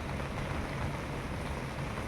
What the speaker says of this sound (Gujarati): જો ઝીણો વરસાદ ચાલુ થઈ ગયો.